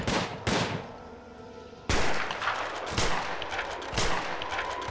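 Guards opening fire in Prison Architect, with a sharp burst of shots, a pause, then a string of loud cracking gunshots in close succession with no talk.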